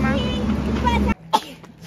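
A single sharp, close sneeze in a house, heard after a stretch of steady background noise cuts off.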